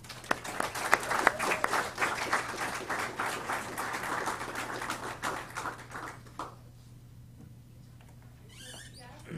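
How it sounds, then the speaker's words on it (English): A round of applause from the audience at a TCAT Hohenwald technical college signing day ceremony, dense clapping for about six seconds that then thins out into scattered claps and quiet room noise. "Let's give them a round of applause."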